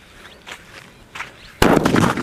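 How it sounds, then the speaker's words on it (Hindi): An aandhi toofan bomb Diwali firecracker ignites with a few soft crackles and pops, then bursts into a loud, sustained roaring blast of crackling at close range. "हमारे पास है इस टाइप का आंधी तूफान बम, देखते हैं ये कैसा चलता है"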